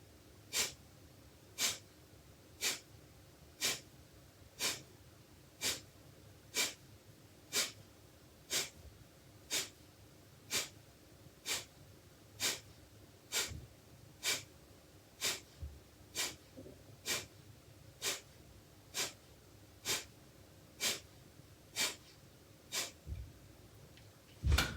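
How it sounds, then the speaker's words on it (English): Breath-of-fire yoga breathing: forceful, rhythmic exhales pushed out through the nose, roughly one sharp puff per second, close and clear over a quiet room, repeating evenly for a long stretch. "So, breath of fire. You can place one hand on your belly and you focus on a forceful exhale. So, through the nose."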